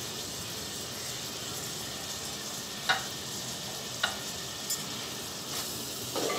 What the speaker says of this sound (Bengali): একটু ধনে পাতার সাথে নেড়ে চেড়ে চুলাটা আমি এখন অফ করে দেবো